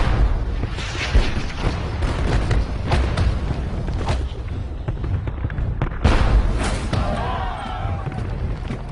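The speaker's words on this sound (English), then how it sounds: "As the Old Guard march toward the ridge, they get a taste of British artillery." Cannon fire from British artillery at the Battle of Waterloo comes as heavy booms and thuds in a dense, noisy battle scene, loud and close, with a whistling trail near the end.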